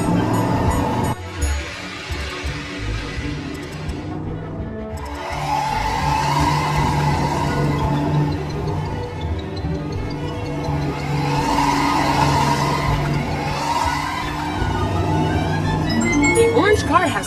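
Toy race cars circling red cones, with continuous engine revving and tire-skid noise throughout, loud and close, under a narrating voice.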